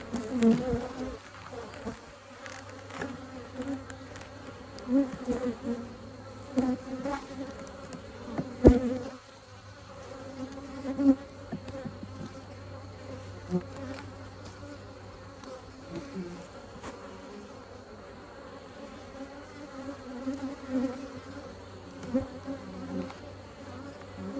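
Honeybees swarm and hum around an open hive holding brood and nectar, a steady droning buzz with individual insects swelling louder as they pass close, sustained throughout with no voices.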